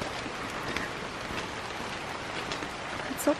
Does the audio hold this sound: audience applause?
no